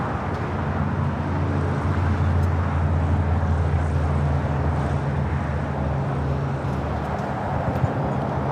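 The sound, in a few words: aircraft taking off at LAX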